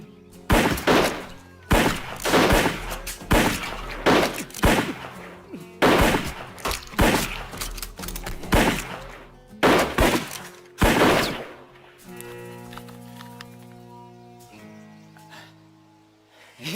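Sustained gunfire from an action-film shootout between a mega python and a gatoroid, loud bursts and single shots in rapid clusters, then a quieter stretch of mechanical clicks and clatter as a weapon is reloaded.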